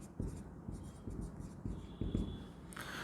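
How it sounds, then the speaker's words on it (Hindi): A pen writes on paper in a quiet room, with a few short scratching strokes in a loose rhythm, close and faint. "यहाँ लिखते हैं"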